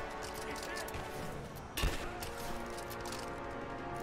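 A big gun fires in Rise of the Tomb Raider, a single sharp loud blast near the middle standing out from a steady bed of game ambience and scattered distant gunfire.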